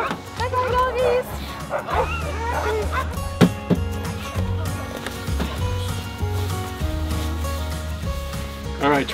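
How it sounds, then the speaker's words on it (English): Sled dogs in snowy Lapland, Sweden, barking, yipping and whimpering in an excited chorus close by, a continuous clamour of overlapping yelps and whines with a person's voice mixed in. "Hi, doggies!"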